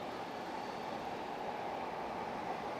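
A train rolls past at night in Ochanomizu, Tokyo, a steady broadband rushing rumble heard from some distance, faint and unbroken with no voices.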